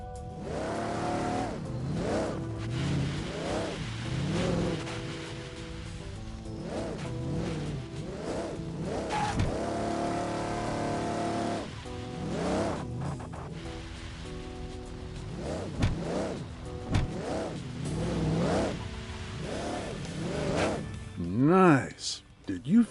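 UTV engine in the video game Overpass 2, a steady motor drone that rises and falls with revving as the vehicle drives over rough ground, with tire noise; a voice speaks instructions over it throughout.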